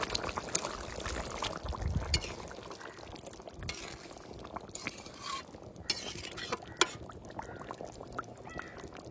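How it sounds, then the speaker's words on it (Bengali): Fried river fish slid into simmering potato curry gravy in a village kitchen, with soft bubbling, wet splashes and scattered sharp clinks of a pot and spoon throughout. "ঝোলে জাল হওয়ার পরে তো মাছ দিয়েছি"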